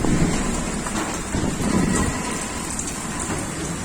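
Heavy rain pours down in Faridabad in a dense, continuous hiss with a rumbling low undertone, loud and close, with no voices.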